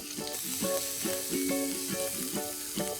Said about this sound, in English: Once the oil has heated up, we'll add in one chopped medium-sized onion.